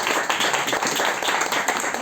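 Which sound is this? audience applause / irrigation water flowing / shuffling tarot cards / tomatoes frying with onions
audience applause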